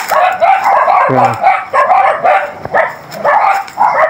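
Several dogs barking at a house, loud and close in quick repeated bursts with yips mixed in, and a person calls out once among the barks.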